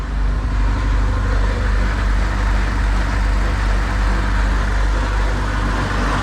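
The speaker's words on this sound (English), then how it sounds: "Those injectors are loud." A 1983 Porsche 944 engine idles loud and close with a steady low rumble and a busy ticking from its noisy fuel injectors, constant throughout.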